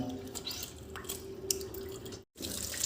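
Water runs and drips into a sink as salt is washed off catfish, a steady close splashing trickle with a brief dropout near the end, no voices over it.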